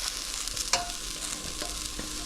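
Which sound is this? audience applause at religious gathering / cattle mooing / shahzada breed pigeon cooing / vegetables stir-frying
vegetables stir-frying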